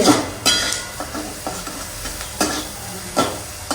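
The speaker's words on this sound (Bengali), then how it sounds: "আজকে ডিমটা রান্না করছে" An egg fries and is stirred in a pan, with steady sizzling broken by several sharp scraping strokes of a utensil roughly every second.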